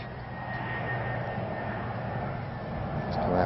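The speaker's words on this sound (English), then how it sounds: "You can hear another aeroplane sweeping around." An airplane sweeps around over a campsite near Stonehenge, a steady broad engine roar at moderate distance that grows slightly louder toward the end.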